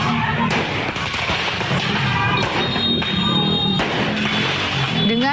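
Loud, dense crackling and popping bursts of firecrackers going off continuously during a street brawl between two youth gangs, amid noisy outdoor commotion with faint shouting voices in the background.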